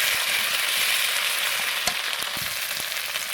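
Garlic paste sizzles in hot oil in a pan while mutton curry is being cooked, a close, steady, hissing fry with a few faint pops and stirring clicks, with no voices.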